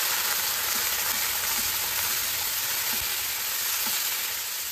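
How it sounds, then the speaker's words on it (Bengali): Green chilli and ginger paste frying in oil with cinnamon stick, cloves and crushed cardamom: an even, dense hiss of hot oil held steady throughout, with no speech. "ফোড়নটা কয়েক সেকেন্ড ভেজে নিয়ে কাঁচা লঙ্কা আদার পেস্টটা দিয়ে দিলাম।"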